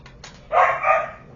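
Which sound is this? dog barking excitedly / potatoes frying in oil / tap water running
dog barking excitedly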